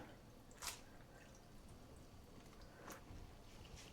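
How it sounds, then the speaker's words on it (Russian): Water drips from freshly rinsed salad greens left to drain in a home kitchen, producing a couple of faint, isolated drops against a quiet background. "Вода будет стекать."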